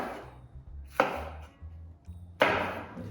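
Red capsicum cut into chunks with a knife on a chopping board; a few distinct sharp chops stand out clearly against a quiet kitchen background.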